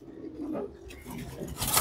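Soft pigeon cooing from a loft of high-quality silver-generation racing pigeons, low murmuring coos rising and falling over a couple of seconds with a brighter rustle near the end.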